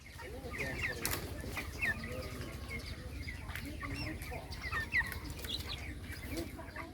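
Broiler chickens on a farm cluck and chirp steadily throughout, a dense flock murmur with occasional sharper calls and a faint flutter of wings under a constant low hum.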